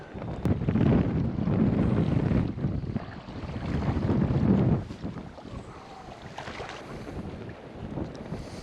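Strong wind on an open mudflat during shallow-water fishing, roaring and buffeting the microphone in heavy gusts that ease after about five seconds into a lighter, steady rush, with no talking.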